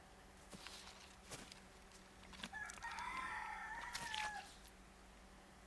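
A rooster crows once in the middle of the Silent Hill f video game, a faint, drawn-out call that rises above a quiet, steady background ambience with no talking.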